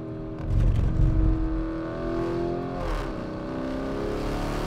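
Lamborghini Urus SUV with a Mansory kit, armored, 650 cv, roaring on a track at about 80 km/h, its loud engine note climbing in pitch as it accelerates with a deep, steady growl and no talking.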